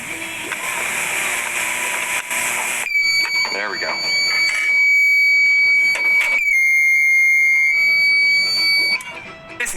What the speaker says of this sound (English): Let's go ahead and activate the fire alarm portion of the system.